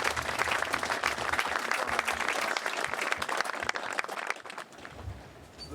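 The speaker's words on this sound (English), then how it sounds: "give a round of applause to the Trust members" An audience at a memorial gathering in the Falklands breaks into sustained, dense applause close by, which thins out toward the end.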